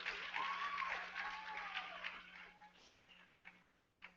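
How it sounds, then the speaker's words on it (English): Audience at a student motion media showcase applauding, a soft wash of clapping that fades gradually, heard from a distance at low volume with a faint tonal sweep over it. "So he deserves a hand of applause for this."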